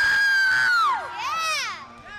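A person screams in imitation of the anime character Armin Arlert, a loud, high, strained wail sliding downward, then a second wavering shriek, close to the microphone with no other sound.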